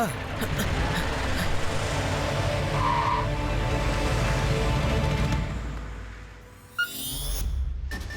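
A cartoon vehicle speeds off with a sustained skidding tire roar and engine rush under voices, fading out toward the end before a brief sharp squeal.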